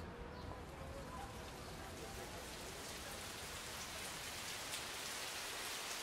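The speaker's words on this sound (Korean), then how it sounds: "굵은 빗줄기가 쏟아지기 시작했다" Heavy rain pours down steadily, a dense, continuous wash of drops hitting surfaces up close, with no voices.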